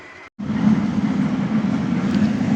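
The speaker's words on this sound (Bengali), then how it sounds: "এইমাত্র একটা ট্রেন চলে গেল" A train rumbles past close by at the Hili border in Dinajpur, a steady low roar with rattling wheels continuing for a couple of seconds after a brief silence.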